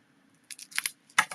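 Scissors snip and slice open a plastic package in a series of short, close crisp cuts and crinkles, an uneven cluster of about five sounds followed by a brief pause and a final louder snip, with no voices.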